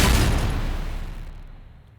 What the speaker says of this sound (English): We also have some additional impacts, which are down here, and that sound like this.